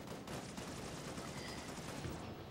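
Pistol fire in the video game Halo: Reach comes as a rapid burst of quiet, clipped shots in quick succession, low in level and without speech.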